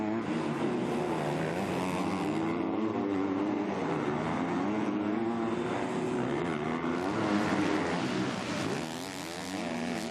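MX2 motocross bikes, Husqvarna and KTM, racing at the Italian round, a continuous loud whine of high-revving engines swelling and fading as riders pass, with no voices heard.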